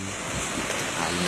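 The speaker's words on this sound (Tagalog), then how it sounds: "Tunog ng alon" Ocean waves wash in a steady, broadband rush of surf with wind noise on the microphone, continuous and fairly loud with no distinct breaks and no voices.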